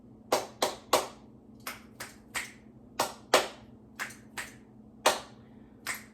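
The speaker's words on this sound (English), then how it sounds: "I like to check in with my nervous system with some clap snaps" Sharp hand claps and finger snaps, about a dozen crisp hits in an uneven rhythm, close and loud with quiet gaps between them.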